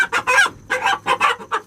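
Rhode Island Red chickens cluck loudly and close in a rapid series of about six bursts, with no one talking.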